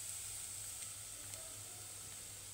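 Garlic cloves sizzle in hot oil with a faint, steady hiss that carries evenly and alone, marked by a few tiny crackles.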